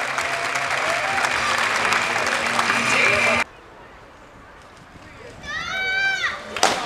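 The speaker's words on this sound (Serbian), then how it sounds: "Zasluženi aplauz za Loru." Loud, dense applause from an outdoor crowd at the 2024 old-bridge diving event on the Đetinja river, clapping for a diver; it stops abruptly partway through, then quieter crowd murmur and a few high whistle-like chirps follow.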